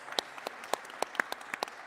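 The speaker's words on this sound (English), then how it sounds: "Big round of applause for our panel" Audience applause at a mining investment conference plenary after a panel session, a thin, steady patter of claps from a modest crowd, moderately distant and fairly quiet, with no talking over it.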